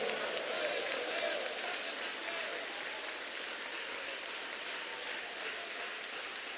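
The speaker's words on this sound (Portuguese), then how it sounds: "Batam palmas e glorifiquem ao Senhor." A church congregation claps its hands together steadily, a fairly faint, continuous patter of many hands that carries on evenly throughout without a break.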